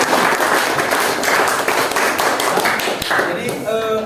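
An audience claps at a teacher-training session, a busy, sustained patter of many hands that continues throughout, with voices and chatter mixed into it.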